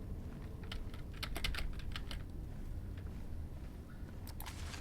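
Typing on a computer keyboard: irregular clusters of light key clicks, fairly quiet over a steady background hum, with a short pause before a final flurry.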